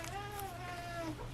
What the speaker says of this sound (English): My cats just came running in, fighting with each other, playfully.